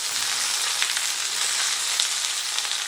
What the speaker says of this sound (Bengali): এবারে যে ভেন্ডিগুলো আমি কেটে রেখেছিলাম ওইগুলোকে আমি তেলের মধ্যে দিয়ে দিচ্ছি।